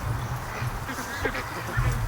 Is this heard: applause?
no